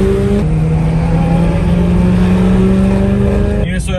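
Car engine droning steadily while driving a mountain road in Taiwan, a loud close in-cabin hum with sustained engine tones, voices talking over it, and a shift in pitch near the end.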